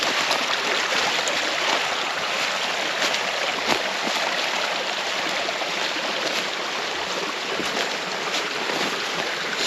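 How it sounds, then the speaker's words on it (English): Floodwater on a flooded homestead rushes steadily past as a broad, constant roar of flowing water, dense and unbroken, with no voices over it. "how much water is rolling down through here right now"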